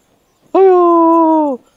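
A dog gives a single sustained whine lasting about a second, clear and close, with silence before and after.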